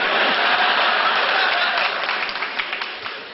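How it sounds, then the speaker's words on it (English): Applause from a large stand-up comedy audience of about 1800 people: dense, loud clapping that holds steady and then slowly thins and fades toward the end, with no voice over it. "Don't clap at that."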